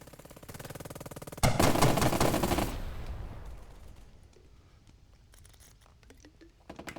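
Gunfire from the strategy game Burden of Command: a rapid volley of shots bursts out loudly, decays into a rumbling tail, then a few scattered shots follow near the end.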